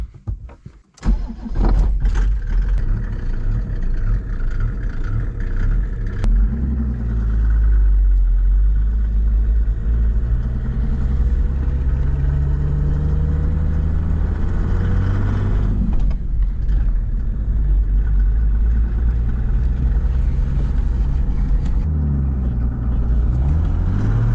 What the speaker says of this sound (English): Okay, proper test drive.